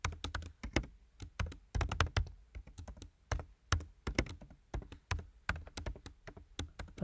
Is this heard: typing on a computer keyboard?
yes